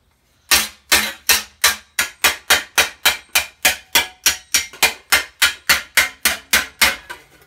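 Steady hammer blows on a spring steel greave being planished to remove dents, about twenty loud sharp metallic strikes in an even rhythm, close up and alone.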